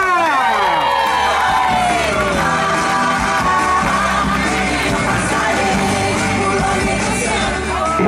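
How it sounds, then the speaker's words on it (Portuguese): A large crowd cheers and yells loudly and continuously, with whoops and shouts layered over a steady roar, close and sustained throughout. "E como eu vou contar com a participação de todos, palmas pra galera!"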